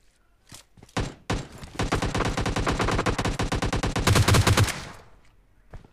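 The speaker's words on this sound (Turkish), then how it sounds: "Ha, vurdu birkaç mermi attı." Gunfire in the mobile shooter PUBG Mobile Lite: a few sharp single shots, then a loud, fast automatic burst of evenly spaced cracks lasting several seconds before it stops, with no talking.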